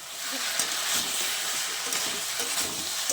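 A sweetened vegetable curry is stirred as it fries, with a dense, constant sizzle and soft scraping strokes of a spoon close by throughout.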